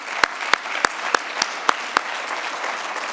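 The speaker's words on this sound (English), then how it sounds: "another round of applause for..." Conference audience applauding moderator Greg Clark, a steady wash of clapping with a few sharper claps standing out at regular intervals, moderately loud with no voices over it.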